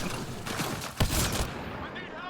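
Rapid automatic gunfire in the video game Mass Effect: Andromeda, a dense burst of shots peaking in the middle before tapering into fading echo, loud and close.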